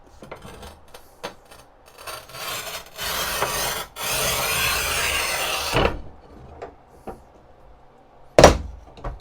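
Manual tile cutter working ceramic tile: a few light scrapes, then a steady gritty scoring rasp for several seconds, followed by scattered clicks and one sharp snap as the piece breaks.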